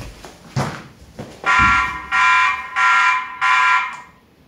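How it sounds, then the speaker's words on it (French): Outdoor TP-Link Tapo C320WS security camera sounding its alarm: four loud, evenly spaced electronic siren bursts, each about half a second long, following a couple of brief knocks at the start. "La caméra, il va lancer un light plus l'alarme."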